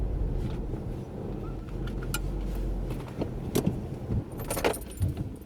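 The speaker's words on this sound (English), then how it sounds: "I'm just pulling up to the gate now." A car rolls to a stop at a field gate on a frosty farm morning: a low engine rumble fades out after a few seconds, then close clicks, jangles and handling noises follow without speech.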